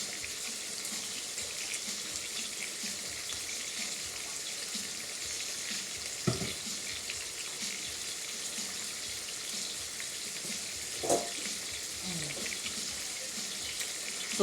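A kitchen tap runs steadily into a sink or pot while cooking potatoes, a soft continuous hiss of water with a couple of brief clinks, faint and even throughout.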